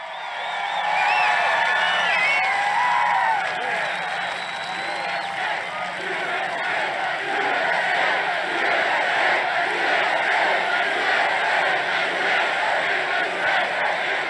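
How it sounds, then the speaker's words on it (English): A large political rally crowd roars and cheers continuously, with shouts and whoops rising over a dense, loud wall of voices and scattered clapping, sustained throughout. "They're cheering that he swore"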